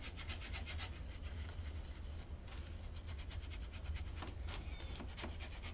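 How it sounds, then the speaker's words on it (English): A brush rubbing and polishing gilding flakes onto a surface makes a steady, close scratchy swishing with quick repeated strokes, continuous and fairly faint, with no voices. "And the brush kind of polishes it for you."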